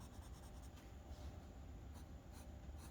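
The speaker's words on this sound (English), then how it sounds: "with my 4B pencil, I'm actually just going to come in here and kind of like redraw the line" A 4B pencil scratches softly across paper as a line is redrawn, a faint, close, continuous graphite rasp with no talking.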